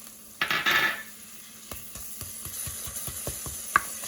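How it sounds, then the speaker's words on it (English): Fresh frozen ginger drops into ground-meat keema frying in a pan, setting off a loud burst of sizzling that quickly dies down, followed by quiet, regular scraping and tapping of stirring. "Now you add fresh frozen ginger"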